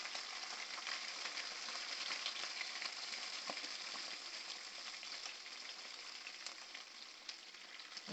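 Milkfish (bangus) frying in hot oil in a pan, giving a steady, close hiss and sizzle with scattered small pops and crackles throughout, no talking.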